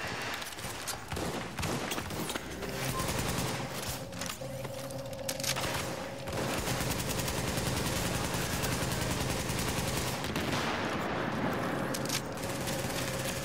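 Dense, continuous automatic gunfire and overlapping shots in The Division 2 game, loud and sustained throughout with bursts layered over constant combat noise.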